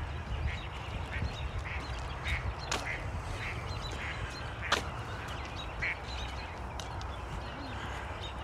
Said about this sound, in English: There's a duck over there having something to say.